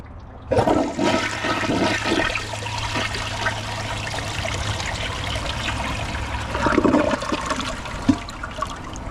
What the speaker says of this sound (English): I'm going to hold down the handle and see how it flushes.